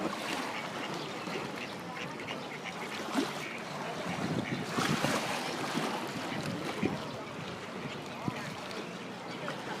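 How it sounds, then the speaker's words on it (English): Ducks on water give off constant splashing and scattered quacks in a dense, busy outdoor scene, with the splashes loud and close throughout. "there's a lot of ducks there. It's very splashy"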